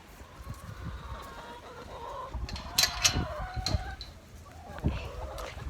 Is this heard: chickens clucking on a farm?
yes